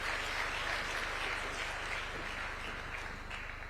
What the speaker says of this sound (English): Please, a round of applause one more time for His Excellency